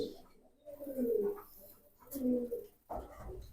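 Coos from Jobra Pankhi pigeons, a fancy Bengali breed kept in a loft, come in two low rolling phrases, fairly close and moderately loud, with a brief rustle or flutter near the end.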